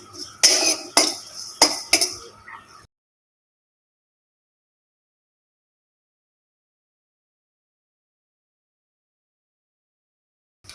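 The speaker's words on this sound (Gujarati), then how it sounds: "એક પેન લઈ લઈશું, તેમાં થોડું જીરું એડ કરીશું।" Near, sharp metallic clinks and knocks of a pan being handled while cumin goes in, a burst of about five hits over the first three seconds, then silence.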